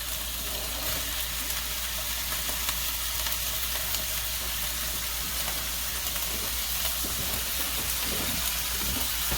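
Onions and celery frying in a pan as the first step of a lumpia filling, a steady close sizzle with faint stirring scrapes and no talk.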